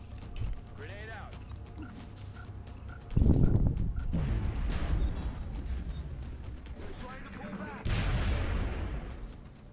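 A grenade detonates in the video game XCOM, a heavy booming blast with rumbling debris, followed by further crashing impacts and another burst later; someone talks over the game sounds.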